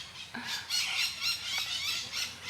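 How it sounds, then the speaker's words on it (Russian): Parrots at Iguaçu Falls on the Brazilian side squawk and screech shrilly in quick overlapping bursts, loud and close, with no talking. "Ой, попугаи, добрый вечер, добрый вечер. Господи, надеюсь, вы слышите, как они орут."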